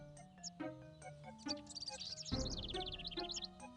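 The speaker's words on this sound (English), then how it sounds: "These birds are still going absolutely bloody ham." Bright, rapid bird chirps and trills from a video game, overlapping melodic calls repeating over a faint tonal background, with a dense burst of chirping partway through.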